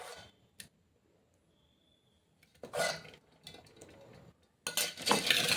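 A pestle pounds fried tomato and green chilli pieces in a stone mortar for village-style tomato chutney, heard as a close, dull thud followed by bursts of grinding, scraping strokes in a quiet kitchen.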